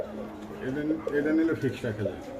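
Pankhi pigeon cooing in soft, repeated low throaty phrases close by, with people talking over it throughout.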